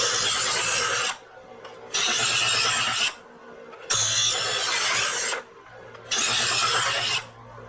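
A knife in badly worn condition is drawn across a sharpener in four long rasping strokes, each lasting about a second with brief quiet gaps between them, close and fairly loud, with no talking.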